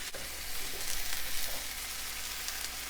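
Dover sole fries in a hot pan on the stove, giving off a loud, steady sizzle that fills the whole moment without any talking.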